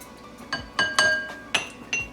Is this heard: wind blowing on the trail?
no